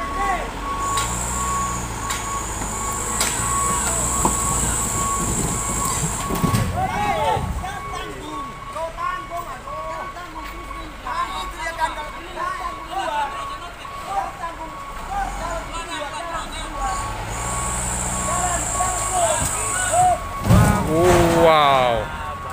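Heavy trucks work to tow an overturned truck loaded with palm oil fruit at a roadside accident, with diesel engines rumbling, repeated reversing beeps and air brake hisses, while people talk nearby throughout.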